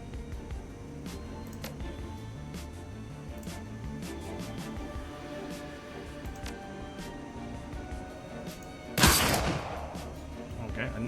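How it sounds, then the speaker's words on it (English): Gunfire from a weapon in the Shadowrun Dragonfall video game: one loud, brief burst near the end rises over a steady bed of game music and ambience. "I didn't actually mean to shoot him with that weapon at this range"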